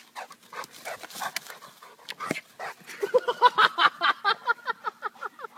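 A dog whimpers and yips in short bursts, then pants rapidly in a steady rhythm, close by.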